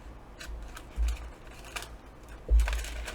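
Scissors snip through a junk mail paper envelope, two crisp cuts close by in a quiet room, each a short crunchy clip with faint rustling between.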